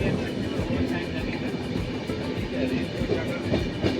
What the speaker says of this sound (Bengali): আরও 10 থেকে 15 মিনিট দাঁড়ানোর পর আমাদের ট্রেন ছাড়লো যেখানে দাঁড়িয়েছিলাম সেখান থেকে